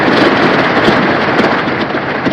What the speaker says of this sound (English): It's raining. We got thunderstorms.